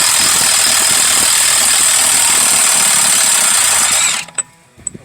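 A Milwaukee Fuel impact wrench loosens a Prius front axle nut during a wheel bearing hub replacement, a loud continuous rattling hammer for about four seconds that cuts off, followed by a few faint clicks.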